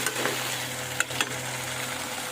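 Spice paste (masala) being stir-fried in a pan, a steady low sizzle with a couple of brief scraping clicks, close and moderately loud, with no talking.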